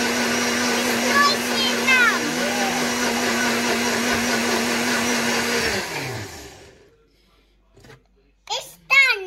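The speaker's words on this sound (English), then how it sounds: "I'm just whizzing it up in the blender" A kitchen blender whizzes up a jelly mixture with a loud, steady whine for about six seconds, then spins down and stops, with children's voices chattering over it and after.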